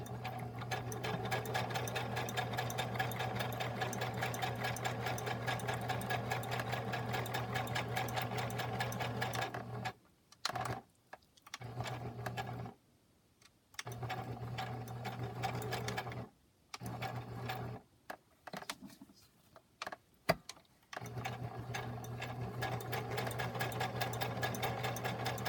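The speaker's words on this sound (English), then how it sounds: "I like to back stitch." A sewing machine back stitching a lace-trimmed fabric pocket runs in a steady mechanical whir, stopping and restarting several times with short pauses, close and continuous.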